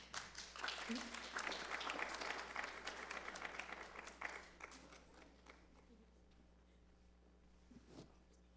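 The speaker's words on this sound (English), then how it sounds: "Let's give them a round of applause." A small audience at a women-in-sports symposium applauds panelists, clapping strongly for about four seconds before tapering off into scattered claps, shuffling and a brief voice near the end.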